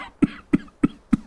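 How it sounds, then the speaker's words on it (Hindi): Four sharp coughs from smoke in a closed kitchen, in a steady rhythm, evenly spaced and close by, with no talking. "जेठ और देवर धुएं से खांसते हुए"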